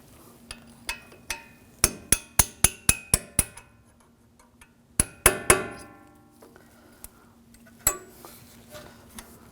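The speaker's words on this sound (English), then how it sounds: "Now we're going to take the pins out. Use a punch. Just give it a tap." A metal punch struck repeatedly against the front brake caliper pins of a 2015-2022 Chevrolet Colorado: sharp, ringing metallic taps in quick bursts, loud and close, with brief pauses between groups.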